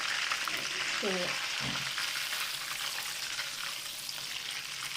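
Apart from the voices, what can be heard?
butter sizzling in hot oil in a karahi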